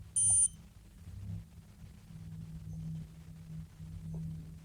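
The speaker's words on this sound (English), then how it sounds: "And you'll hear the beep." A single short, high electronic beep from a Raspberry Pi Pico intruder alarm with an IR sensor, sounding once at the start and then giving way to quiet room noise.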